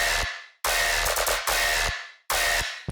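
Tearout dubstep bass drop from self-made bass samples, now high-pass filtered for a cleaner, less muddy low end: loud, gritty distorted bass stabs in chopped bursts separated by short silences, aggressive and upfront.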